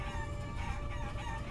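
A chicken crows in the video game Guacamelee, a steady game sound that holds through the short moment at an even level with no talk over it.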